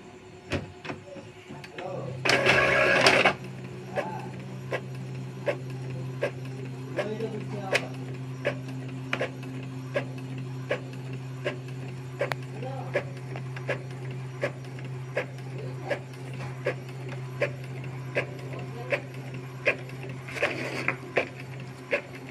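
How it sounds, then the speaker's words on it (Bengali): A Xerox photocopier makes a colour copy: a burst of scanning noise near the start, then a steady low mechanical hum with regular clicking and ticking, and a second whirring burst near the end. "তার আগে আমি এটাকে একটা কালার প্রিন্ট মেরে দেখি আমি কীরকম হয়।"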